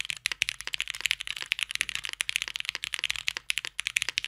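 Rapid typing on a customized mechanical keyboard, a steady stream of crisp, bright clicky keystrokes, close up and alone without speech.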